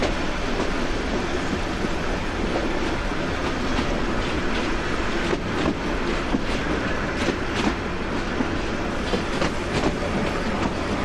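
The Rangpur Express train running on the rails at night near Pirgachha railway station in Rangpur district, a loud, constant rumble with rhythmic clickety-clack of wheels and occasional metallic squeals throughout.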